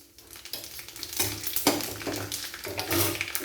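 Three dried red chilies and half a spoon of whole cumin fry in hot oil, a bright continuous sizzle that swells after a quiet start, with occasional louder crackling bursts.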